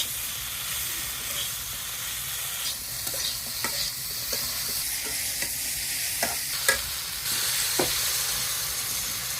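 Spiced vegetables sauté in a pan over a village cooking fire, a steady hiss of frying with scattered soft stirring scrapes and clicks, close and moderately loud.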